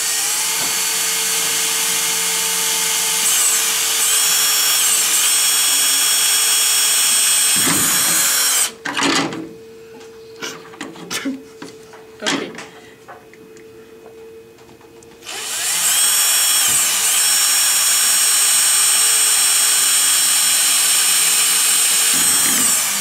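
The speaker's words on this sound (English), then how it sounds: "So now I'll be drilling holes up here" A power drill drills holes in a drill-manufacturing setting with a loud, steady whine. It drops out for several seconds of scattered clatter and knocks, then the whine resumes at full strength.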